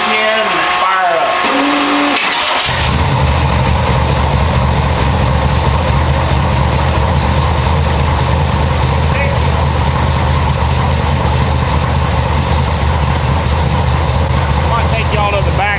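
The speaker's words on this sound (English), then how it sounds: "let's see if old Red will start" A nitrous big-block Chevy Nova, unstarted for several days, cranks and fires up after a quiet couple of seconds, then settles into a loud, rough, steady idle close by.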